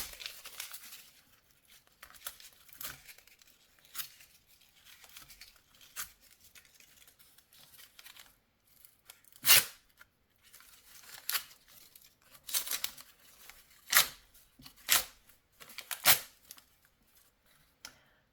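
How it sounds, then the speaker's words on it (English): Paper pages torn from a book for an acrylic craft project, with soft rustling and handling early on, then several sharp, close ripping bursts in quick succession over a quiet background. "and then we take this and we tear it off"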